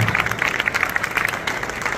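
Standing audience at a Karachi prize-giving ceremony claps steadily in a thick, continuous round of applause, loud and sustained throughout.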